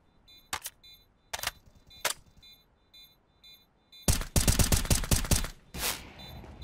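Gunfire in Counter-Strike: a few isolated sharp single shots, then a dense rapid burst of automatic fire followed by another short volley, loud and close.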